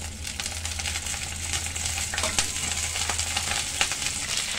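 Green chilies fry in two spoons of oil with a continuous close sizzle and dense crackling pops, plus a steady low hum underneath.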